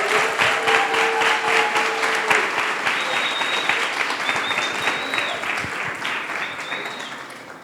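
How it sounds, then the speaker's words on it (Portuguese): Sustained applause from a seated audience at a conversation circle, dense clapping steady and loud across the whole stretch before slowly thinning toward the end. "Uma salva de palmas para o Simão Pedro"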